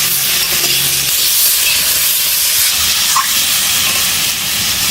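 Pieces of taro fry in oil spiced with turmeric and salt, giving a loud, steady, close hiss of sizzling that runs unbroken throughout with no talking.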